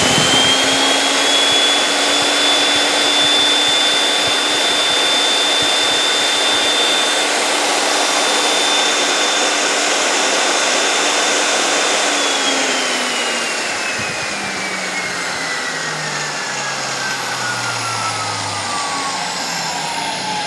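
A Mollar MED 2800 magnetic drill roars loudly and continuously as it drills, its motor pitch holding steady, then dipping and winding down toward the end, close and alone.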